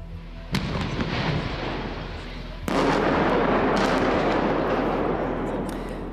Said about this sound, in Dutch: Met enkele welgemikte ontploffingen kwamen twee grote koeltorens en twee rookschouwen in Langerlo vanmiddag naar beneden